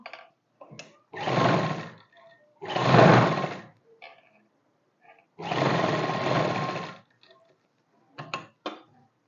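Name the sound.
sewing machine stitching a suit neckline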